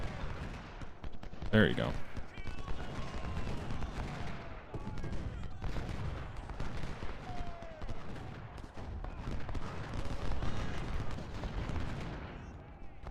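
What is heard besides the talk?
Civil War musket volleys firing in video game Ultimate General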